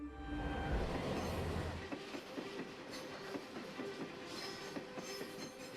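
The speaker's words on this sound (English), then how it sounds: "Every day, 226 trains run along it in pairs." Trains on China's 594-kilometer Shuohuang Railway, one of the country's busiest lines, rumble past with a loud low roar that settles into steady rhythmic clickety-clack of wheels over rail joints, alone with no voices.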